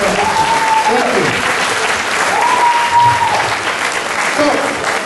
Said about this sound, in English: Round of applause for West LA VA, guys.